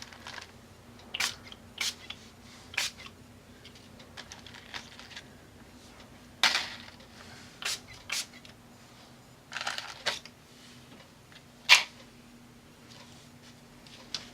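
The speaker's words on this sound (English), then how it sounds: "I'm going to take that same stencil, and I've got my bubblegum pink dilution spray." Bubblegum pink dilution spray is misted through a stencil onto a mixed media journal page, several short, sharp hissing bursts at irregular intervals, close and fairly loud, with quiet handling noises between.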